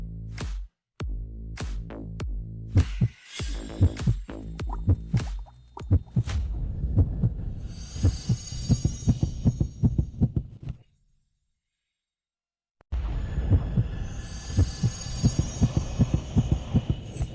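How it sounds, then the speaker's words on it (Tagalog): A fast heartbeat sound effect throbs in deep, rapid thumps under a low hum with dramatic music, pausing briefly into near silence before resuming the quick pounding pulse. "bakit ang bilis ng tibok ng puso nyo?"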